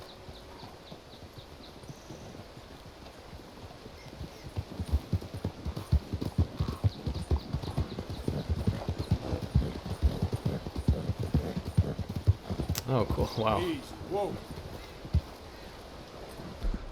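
Horse hooves clip-clop in a steady rhythm as a rider travels through Red Dead Redemption 2, the hoofbeats growing louder and faster, with a whinny and a player's brief remarks partway through.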